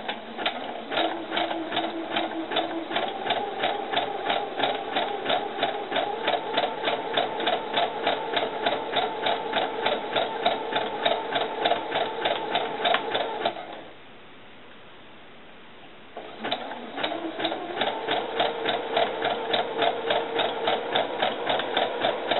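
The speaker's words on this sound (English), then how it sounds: "I'm going to finish sewing all the way across" A sewing machine zigzag-stitches curled fishing line, its needle hammering out a fast, even mechanical rhythm up close. It pauses for a couple of seconds midway, then resumes at the same steady pace.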